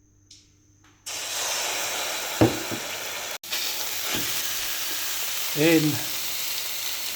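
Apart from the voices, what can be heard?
water droplet sizzling in smoking hot pan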